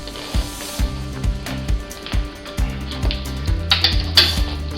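Rhythmic metallic clicks and ratcheting clanks as an adjustable wrench tightens a spacer against an electric bike hub motor, close and fairly loud, repeating in regular turns with slight scraping between strokes.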